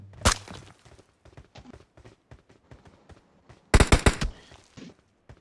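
Gunfire in a multiplayer shooting video game, scattered single shots then a sharp burst of rapid fire, mostly distant with one loud close volley.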